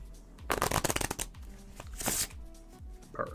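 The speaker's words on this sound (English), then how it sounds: "Get these both shuffled together." Magic cards being shuffled in two quick riffling bursts, with soft handling noises in between and a faint voice at the end.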